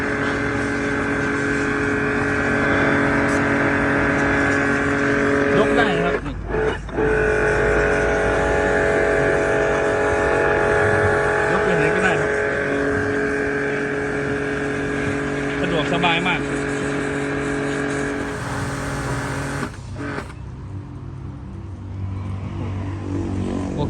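A small portable pressure washer motor hums steadily with a constant tonal drone, briefly cutting out twice and dipping near the end, with a voice speaking over it.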